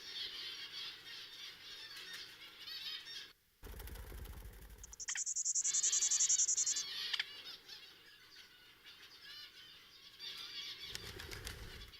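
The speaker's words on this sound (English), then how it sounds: "featuring the calls of extinct and endangered birds specific to that region" Calls and squawks of extinct and endangered birds mixed with fluttering wings, layered in a busy outdoor soundscape, with a sharp high whistle near the middle and brief quiet gaps.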